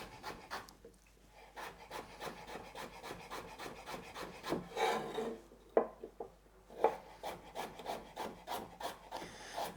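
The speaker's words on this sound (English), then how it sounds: "I'm just going to slice them up, a little diagonal. Nice fine slices." A knife slicing two small, washed, unpeeled carrots into fine diagonal pieces on a board, with steady soft rhythmic cuts, close and fairly quiet, with no talking.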